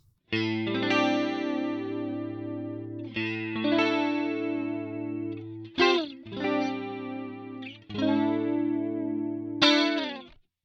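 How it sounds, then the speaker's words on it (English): An electric guitar in an 80s-style tone plays sustained chords alone, the chorus effect toggled off and back on between phrases, with brief scraping transitions between chord blocks. "Chorus back out. Chorus back in."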